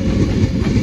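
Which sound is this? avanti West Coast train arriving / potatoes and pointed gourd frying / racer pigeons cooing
avanti West Coast train arriving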